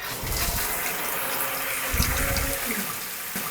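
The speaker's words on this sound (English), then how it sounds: "you see how the water drains very quickly" Water rushes and gurgles steadily as a just-unclogged bathtub drain empties quickly, a continuous close watery flow with a few low glugs, no voices.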